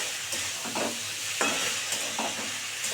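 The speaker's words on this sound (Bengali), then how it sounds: "এবার এটাকে সুন্দর করে একটু নাড়াচাড়া করে" Egg chowmein noodles are tossed and stirred in a hot pan, giving a continuous close sizzle with soft repeated scraping strokes of the spatula.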